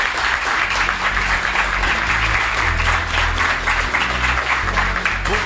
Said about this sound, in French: Je vous demande d'accueillir avec un tonnerre d'applaudissements Jérôme Guedj.